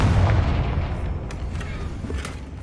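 A Confringo fire spell goes off in Hogwarts Legacy, a deep booming blast that rumbles and slowly fades over a few seconds.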